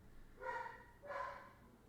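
A dog barks twice, faint and muffled, with a short pause between the two barks.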